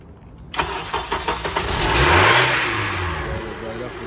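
A 2006 Honda Accord at a city auction lot, jump box hooked up, cranks briefly and catches, its engine rising into a loud rev before settling to a steady idle, close by with no talk.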